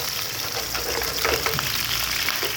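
Seekh kababs shallow-fry in a pan with onions, giving a steady, even sizzle and soft crackle at moderate volume with faint stirring scrapes.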